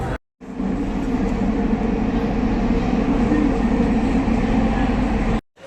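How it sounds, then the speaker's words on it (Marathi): A Mumbai metro train ride heard from inside the car: a loud, steady low rumble and whoosh of the moving train that starts abruptly after a brief silence and cuts off near the end. "आता परत दुसऱ्या मेट्रोमध्ये बसायचं."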